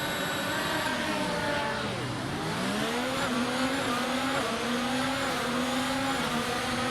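An F1 race car in the video game F1 2019, racing at Mexico, launches off the start line, its engine whining steadily up through the gears in a loud, continuous roar that dips once and climbs again, with no talking.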